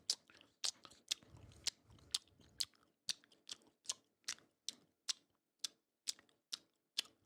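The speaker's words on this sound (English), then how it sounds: "You like my gum chewing?" Gum being chewed right at the microphone makes sharp, wet clicking snaps in a steady rhythm, about two per second, close and distinct against near silence.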